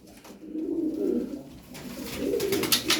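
Tumbler pigeons coo in a loft, soft throaty rolling coos repeating at close range, several birds overlapping with no talk.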